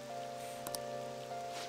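Steady heavy rain from Persona 5 Royal, a dense even hiss of downpour running throughout at moderate level, with a faint tonal music bed beneath and a brief soft clatter partway through.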